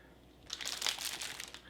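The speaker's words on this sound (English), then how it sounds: "First up, 2 resealable plastic bags." Two resealable plastic bags from a Dutch 24-hour combat ration crinkle and rustle close up, a short burst of bright crackling handling noise in an otherwise quiet room.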